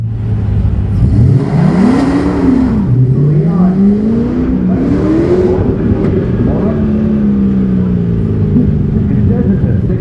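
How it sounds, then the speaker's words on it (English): A 1963 Corvette Roadster custom with a full tube chassis revving at an autocross car show: the engine pitch climbs and falls in several loud, close sweeps before settling into a steady rumble under crowd noise. "It says it's a 63 Corvette Roadster."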